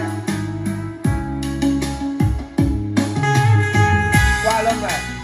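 Unprocessed music with a steady beat and sustained tones, played through a Nexo X88 Plus sound enhancer with the effect bypassed; loud and continuous throughout.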